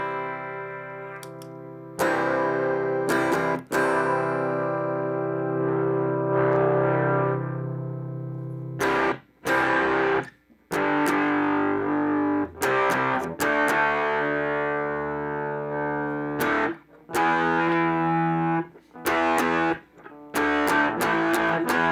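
Electric guitar played through a Vox Tone Bender fuzz pedal, thick saturated chords and sustained notes ringing out in bursts with short pauses between phrases.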